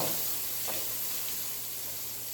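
Onion frying in a home kitchen pan gives a steady, close, soft sizzle and hiss that stays even throughout, with no voices.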